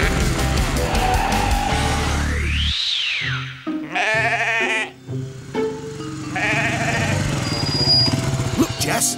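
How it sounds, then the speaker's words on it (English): A sheep stuck in the mud bleats repeatedly in a children's animated show, wavering cries near and loud, mixed with a rising whistle-like effect, music and brief voices around it. "Look, Jess, that must be Alf's lost sheep."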